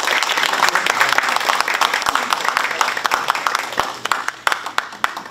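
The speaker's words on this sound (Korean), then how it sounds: "큰 박수 부탁드립니다." Audience at a Korean sports association's sponsorship night award ceremony claps steadily, a full round of applause that loosens into sharper individual claps toward the end, with some voices underneath.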